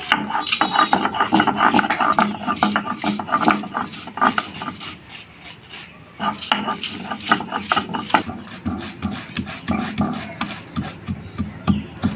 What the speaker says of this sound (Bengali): প্রথমে বেটে নিচ্ছি রসুন।